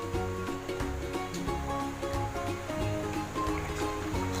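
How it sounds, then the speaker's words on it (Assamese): A pot of sambar with boiled dal, tomatoes and ginger is coming to a boil in a home kitchen, giving a steady bubbling, rumbling simmer that is close and continuous with no voices. "এতিয়া উতল আহিছে"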